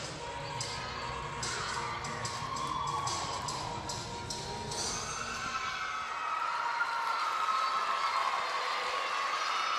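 Crowd cheering in an arena after a college gymnastics routine, with scattered claps and shouts at first, then a sustained roar of voices that swells toward the end.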